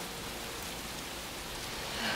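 Heavy rain pours steadily outside as a dense, even hiss with no voices.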